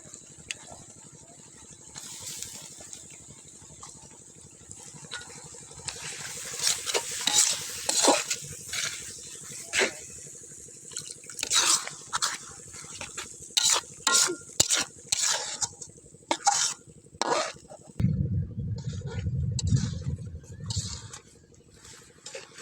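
Onion, garlic and ginger paste fries in a pot for a village-style fish curry, with vigorous stirring that sends rapid scraping clacks of a spoon against the metal over a steady sizzle, then a louder bubbling hiss near the end.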